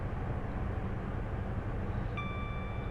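A Class 43 HST train runs steadily in Train Sim 2020, giving a continuous low rumble. A faint tonal whine enters near the end.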